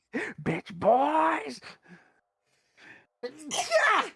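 A person lets out a loud, drawn-out sneeze, with a second explosive one following after a short pause, close to the mic amid brief voices.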